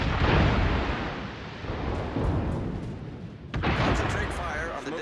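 Heavy naval gunfire from warships in World of Warships rolls in as dense, booming blasts, loud and sustained, with a fresh salvo striking partway through.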